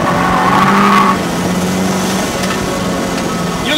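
Nissan 350Z drifting around the Stowe circuit at Silverstone, with a loud continuous engine drone and sustained tire squeal, close and steady throughout.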